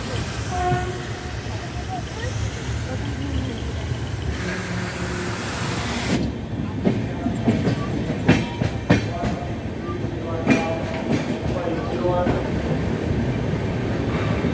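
Mahalakshmi Express 17411 on its Dadar to Kolhapur run near Lonavala, beside the old Mumbai–Pune highway, rumbles steadily along the rails, with sharp wheel clacks and knocks growing denser in the second half.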